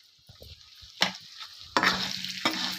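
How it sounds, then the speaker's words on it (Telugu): Stuffed eggplants frying in hot oil in a pan, a low steady sizzle with two sharper bursts of crackling as pieces are stirred or added, close and loud, no voices. "చూడండి, నూనెలో బాగా కొంచెంసేపు మగ్గనియాలండి"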